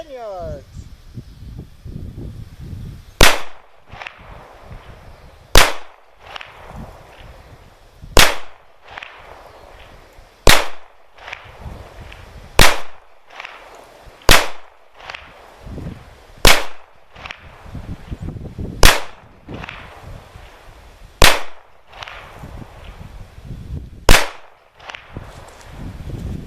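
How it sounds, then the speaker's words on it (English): Ten single shots from a Taurus 92 pistol fired at a target 10 yards away, each a sharp loud crack spaced evenly a couple of seconds apart, with someone talking quietly between them. "what kind of a shot I am and how well I can shoot this gun"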